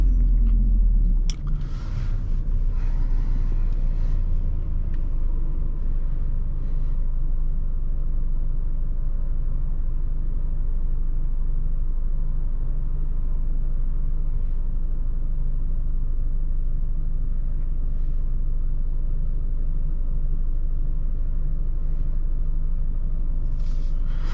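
A 2021 Alfa Romeo Giulia Ti's four-cylinder engine pulls under acceleration, a steady low rumble and road drone heard from inside the car, continuous and fairly loud with no talking.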